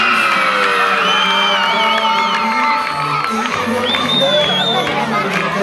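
A school anniversary crowd in San Calixto cheers and whoops for a girl named Margy after a fashion presentation, a steady loud wash of shouting children and adults with a raised voice over it throughout.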